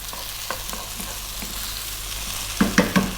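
Diced potatoes fry in hot oil in a pan with a steady sizzle, and a few sharp clattering stirs of a utensil land near the end, close and clear without talk.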